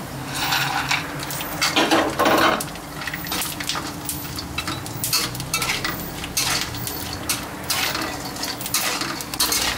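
Pork cracklings fry in a little oil in a pan for a curry-paste stir-fry, with steady sizzling, popping and repeated scraping and clanking of a utensil against the pan, close and loud.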